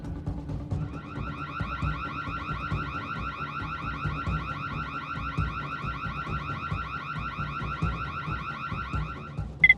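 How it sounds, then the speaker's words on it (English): A home security camera's motion-detection alarm sounds continuously, a loud, steady electronic wail with a fast warbling pulse, ending in a sharp burst. "the motion detection alarm of the security camera goes off"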